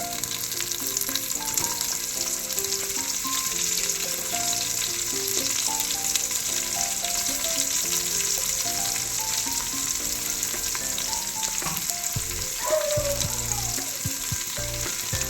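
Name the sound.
onions frying in oil with green chillies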